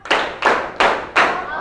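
Four sharp, separate hand claps in a slow, even count, as in a group clapping rhythm game at a school session, each clap crisp and close with a short room tail and no talk over them.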